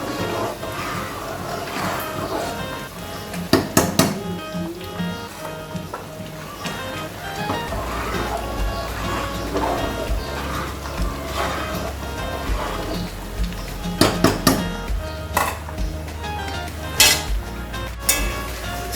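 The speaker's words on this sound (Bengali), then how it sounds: "ডালটা কনস্ট্যান্টলি ওরকমভাবে স্টার করতে থাকতে হবে যেন নিচ থেকে লেগে না।" Dal for chicken haleem is stirred steadily in a pot, with soft continuous scraping broken by occasional sharp clinks of a spoon against the rim, close by.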